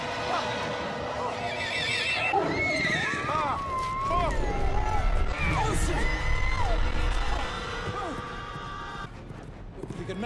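A horse neighs and whinnies in several drawn-out, wavering calls, loud and close, over a busy background of crowd noise and deep rumble, with voices heard in the scene.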